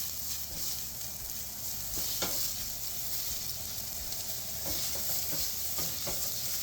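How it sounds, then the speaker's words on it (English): Onions sizzle in olive oil in a pan with a steady hiss, while a utensil scrapes and taps now and then, close and fairly quiet with no talk. "And then we're gonna add our onions."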